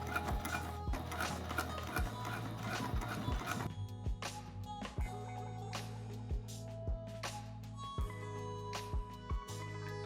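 A Juki TL 2000 QI sewing machine stitches in the ditch on a pair of jeans, running close and steady in several bursts of rapid mechanical clatter broken by brief pauses and clicks.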